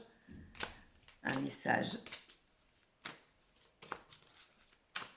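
Oracle cards shuffled by hand in quick, papery bursts before one is drawn, close and fairly quiet, with someone talking over parts of it.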